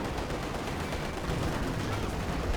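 Artillery from an LEFH howitzer fires rounds in the Company of Heroes 2 strategy game, heard as dense, loud overlapping booms and crackling battle noise that fills the whole stretch without pause.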